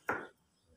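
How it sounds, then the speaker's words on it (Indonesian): A single crisp knife stroke slices through a washed piece of ginger, a short, fairly quiet chop followed by near silence. "Jahe dicuci, terus diiris-iris."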